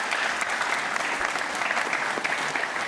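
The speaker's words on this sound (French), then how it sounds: "On les applaudit bien fort" A live audience claps steadily and loudly for about three seconds, a dense even wash of applause with no pauses.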